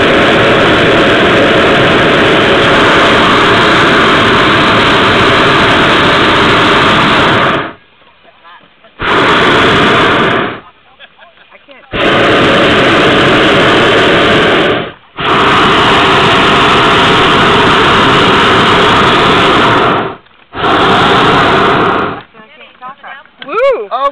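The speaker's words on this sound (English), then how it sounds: "I'm going to heat up the balloon." A hot air balloon burner heating the envelope: loud, roaring propane blasts in several long bursts separated by short quiet gaps, close and dominant, with faint voices in the pauses.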